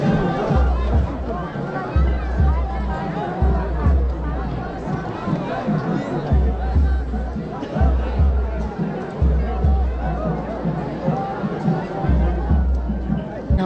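Dense crowd chatter at the Maa Bhagwati fair in Nepal, many overlapping voices in a continuous outdoor babble with occasional deeper rumbles and nearer speech.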